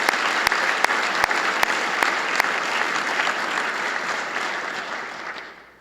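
Audience at a university address applauding, a full, even round of clapping that holds steady and then tapers off at the end, with a few louder claps standing out near the start.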